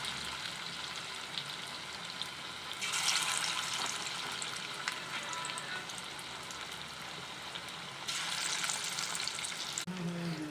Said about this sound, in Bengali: দেখুন আমি এইভাবে বড়াগুলো ভেজে নেব